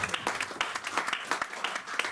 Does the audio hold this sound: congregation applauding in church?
yes